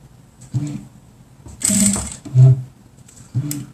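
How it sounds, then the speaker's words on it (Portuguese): A sewing machine stitches the seam of a 3D cloth face mask, running in several short bursts of whirring with pauses between them, close and moderately loud. "eu tô passando essa costura com menos de um pé de máquina"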